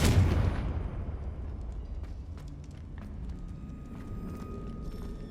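A Confringo blasting spell exploding in the Hogwarts Legacy video game, a sharp booming impact at the start that decays into a rumbling tail, followed by faint scattered debris and ambient clicks.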